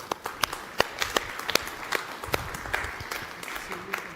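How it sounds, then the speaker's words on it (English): A conference audience applauds a government minister on stage at an energy efficiency meeting, a fairly faint spread of separate claps with distinct sharp hits, lasting around four seconds. "A big round of applause for the Minister."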